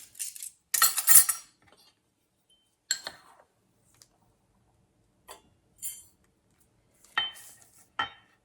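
Dehydrated minced garlic is scooped and measured with a metal tablespoon, giving a handful of close, sharp clinks and light scraping taps spaced out over several seconds, separated by near silence.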